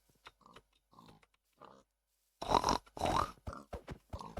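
A pig in Minecraft grunts and snorts in short, clear bursts, quiet at first and then louder, with several rapid grunts in a row.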